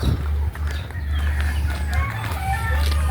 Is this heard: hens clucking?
yes